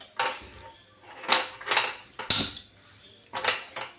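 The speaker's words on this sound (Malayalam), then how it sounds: "ചട്ടിയിൽ ഉണ്ടാക്കാൻ വിചാരിച്ച് ചട്ടി വെച്ചിട്ടുണ്ട്" A clay cooking pot set down on a gas stove in a home kitchen, giving several sharp separate knocks and clatters with quiet gaps between them, close by and clear.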